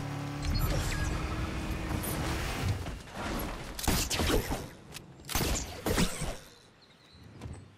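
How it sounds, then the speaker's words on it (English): Busy Fortnite Zero Build game action with an RPG being reloaded: mechanical clicks and clacks, scattered gunfire-like bursts and whooshes, dense and loud throughout with no talking. "He's got an RPG. I just heard him reload it."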